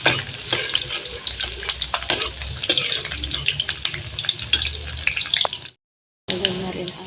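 Garlic fries in a pan for sopas, giving a close, steady sizzle with clattering stirring taps. The sizzle cuts out briefly near the end and then resumes.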